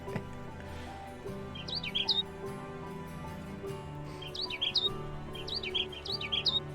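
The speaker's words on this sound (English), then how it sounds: "Cat's going nuts with the bird sounds." Synthetic bird chirps and tweets from the menus of the Forest Ranger Simulator demo, several quick high twittering bursts repeating over a steady low ambient music bed.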